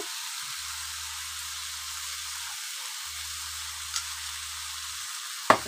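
Spices sizzling in a pan as they are stirred, with salt, turmeric and white mustard paste added, giving a soft, even frying hiss and a low background hum, broken by a faint tap and then a sharper clink near the end.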